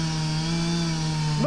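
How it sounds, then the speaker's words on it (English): A chainsaw drones at a steady high pitch while cutting down a tree during pond repair work, loud and close, its tone shifting sharply right at the end. "We finally made a decision to use the chainsaw"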